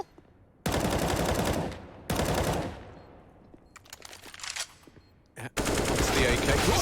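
Counter-Strike match on the Nuke map with AK rifle gunfire. Several loud bursts of rapid automatic fire are separated by short gaps, with scattered single shots and faint game sounds in between.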